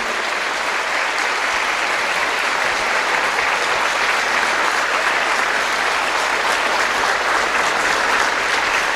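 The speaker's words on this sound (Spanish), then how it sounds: "lo recibimos con un aplauso" Loud, continuous applause from a church gathering welcoming people onto a stage, a dense wall of clapping that holds evenly throughout without pause.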